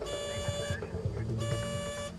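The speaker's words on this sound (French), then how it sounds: "L'alarme signale au pilote une pression dangereusement basse dans une des pompes à combustible." Cockpit fuel pressure warning alarm on an airliner, a steady electronic tone sounding in two separate pulses under a voice talking in French.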